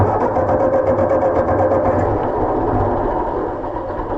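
A Ford 8N tractor engine idles with a steady, chugging mechanical beat, loud and close, holding an even rhythm throughout with no voices.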